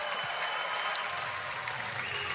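A home crowd at the NHL Draft breaks into sustained applause for a pick, a dense, even wash of clapping and cheering from a large arena audience that holds steady throughout.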